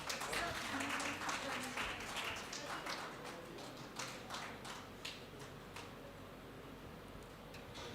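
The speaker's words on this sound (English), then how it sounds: "Audience, please give a big round of applause." Scattered clapping from a college conference audience, strongest at the start and thinning out, with background chatter and voices mixed in.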